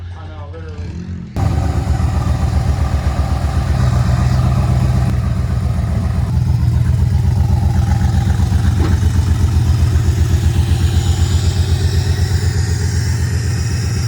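A rat rod truck's engine runs steadily and loud after a brief quieter start, a low rumbling idle with an uneven pulse, close by with faint voices underneath.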